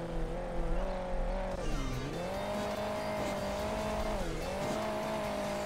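Buggy engine in the mobile racing game Hill Climb Racing 2, a steady buzzing drone that dips and climbs in pitch as the vehicle slows and accelerates over terrain, with no talking.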